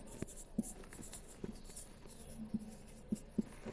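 Chalk or marker strokes tap and scrape across a classroom board in irregular short bursts, close and fairly quiet, with no talking over them.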